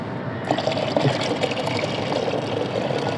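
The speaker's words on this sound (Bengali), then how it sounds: "এরপরে পেঁয়াজের খোসাগুলো এখানে দিয়ে দিবেন, আমি দিয়ে দিচ্ছি" Soaked onion peels and their liquid are poured into a chili plant pot, making a steady, close splashing pour that runs continuously for a few seconds.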